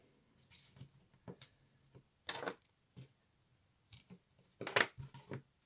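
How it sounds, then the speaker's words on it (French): Scissors made for paper snip through card stock while scrapbooking autumn pocket cards, giving a scatter of crisp, close cuts with quiet pauses between them. "moi, j'ai des ciseaux spéciaux pour couper le papier."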